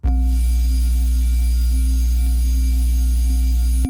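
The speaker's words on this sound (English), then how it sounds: "all that noise is going to excite the Corpus," A continuous buzzy synth drone with a hiss of noise and stacked harmonic overtones, holding steady for several seconds before cutting off.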